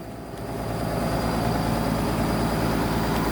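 A Komatsu PC200-6 excavator's heavy diesel engine roars loudly and steadily at full throttle, a dense close-up drone with a grinding mechanical rumble and no voices.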